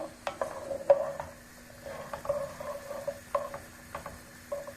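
Pine nuts rattle and skitter in a dry pan as they're stirred while roasting, with soft scraping strokes and scattered light clicks, close and fairly quiet.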